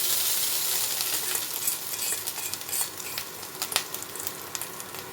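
Grated coconut lightly frying in ghee in a pan, a soft continuous sizzle broken by scraping stirs and small clinks of a spoon against the metal.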